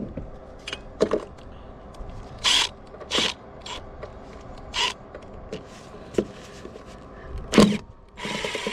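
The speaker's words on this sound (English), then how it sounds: "Using the drill to break the bolt is good strategy when you're trying to be quiet" A drill works at a corroded stainless bolt on an aluminum stanchion, giving short repeated bursts and ratcheting clicks at irregular intervals, fairly quiet and close, over a low background hum.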